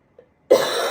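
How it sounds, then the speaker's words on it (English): After a brief near-silence, a single sharp cough bursts out close to the microphone and trails into a raspy follow-through. "I'm going to cough, and I'm so sorry."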